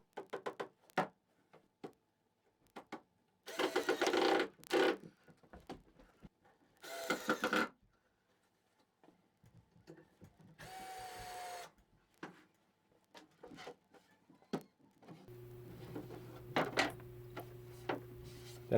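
A power drill drives screws into a wooden workbench top in several short bursts of whirring separated by quiet pauses, with small handling knocks and clicks between them, ending in a steadier machine hum.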